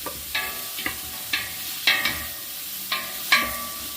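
Onion cooking in butter in a pan, a soft steady sizzle broken by about eight sharp scraping stir strokes at fairly even intervals, close and alone with no voices.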